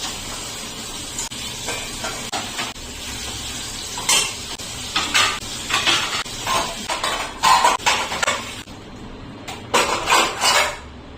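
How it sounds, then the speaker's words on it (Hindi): Dishes and utensils clatter and knock in a home kitchen sink during washing, in irregular bursts of clinks and scrapes over running water, close and fairly loud, with no talking. "यहाँ पर मैंने बर्तन को जो है अच्छे से क्लीन कर दिया है"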